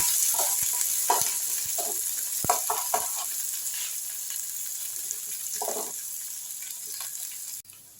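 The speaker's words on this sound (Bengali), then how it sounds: "একটু ভালো করে ফোড়নটা আমি ভেজে নিচ্ছি।" Chopped onion and garlic frying in oil, an even hiss with scattered knocks and scrapes of stirring, ending with a brief drop in the sizzle.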